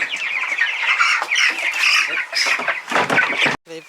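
Chickens squawk and cluck loudly and continuously at close range while being handled and moved in batches into a bin for transfer to a chicken tractor, their calls ending abruptly.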